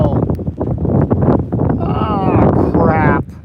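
Strong outdoor wind buffeting a microphone on a farm, a loud broad roar with gusts, heard under a person talking throughout.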